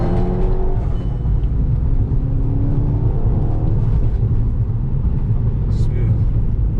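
A VW MK6 GTI running on E54 fuel accelerates, a steady low rumble and whir heard from inside the car, with people talking over it.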